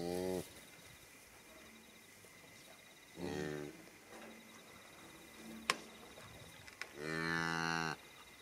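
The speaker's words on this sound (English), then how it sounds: "Lots of cows who have had baby calves." Cows with newborn calves on a farm in spring moo three times, long drawn-out calls spaced several seconds apart over a steady outdoor background hum of insects, with a couple of brief clicks in between.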